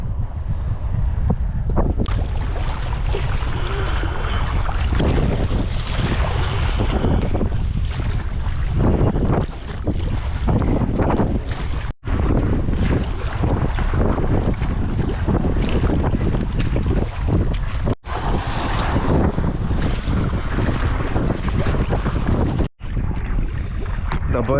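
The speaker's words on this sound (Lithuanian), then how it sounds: "Galima suprasti, kad vėjo yra." Strong wind gusting over the open Curonian Lagoon during a solo kayak trip, a loud continuous roar buffeting the microphone, with choppy waves slapping nearby and a few brief dropouts.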